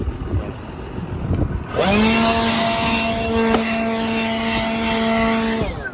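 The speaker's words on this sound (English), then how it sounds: "Let's say this leaf blower was very good blower." A leaf blower starts up and runs at a steady, loud, droning pitch for several seconds, heard close by, then begins to wind down at the end.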